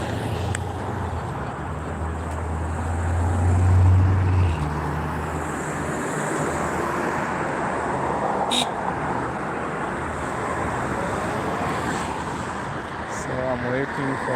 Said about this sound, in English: I'm waiting for this traffic jam to end so that I can cross and be on the other side of the road